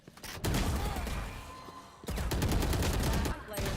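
A Phantom rifle fires in Valorant, two loud sustained bursts of rapid automatic shots separated by a brief pause, close and dominant, with another short burst starting at the end.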